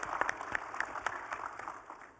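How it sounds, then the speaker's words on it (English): An audience at the I/ITSEC 2023 Congressional Modeling & Simulation Caucus applauds military members and veterans; the scattered individual claps are fairly distant and thin out toward the end. "Let's give our military and our veterans a round of applause."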